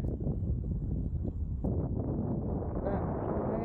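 Wind buffets the microphone steadily during kayak fishing on open water, making a constant low roar close up that fills the whole moment.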